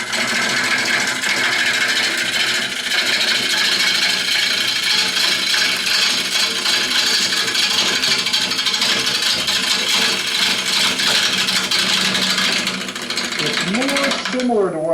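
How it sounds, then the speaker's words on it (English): A gouge takes a roughing cut on a wood bowl spinning on a lathe, producing a loud, continuous rattling chatter that holds steady throughout, with a voice talking over it near the end. "I'm going to speed it up a little bit and take that roughing cut here, drop the handle a little bit"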